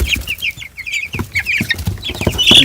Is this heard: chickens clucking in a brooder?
yes